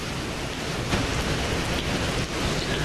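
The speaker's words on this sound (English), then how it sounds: "we can actually already feel the wind and the rain picking up" Wind and rain ahead of Hurricane Irma near Gainesville form a dense, unbroken outdoor roar with a few brief gusty surges, steady and fairly loud throughout.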